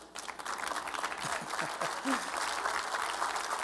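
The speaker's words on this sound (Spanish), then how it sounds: "Nada más una persona aplaudió." Applause during a church sermon, a steady wash of clapping lasting the whole stretch at moderate level, with a few lower voice-like murmurs underneath.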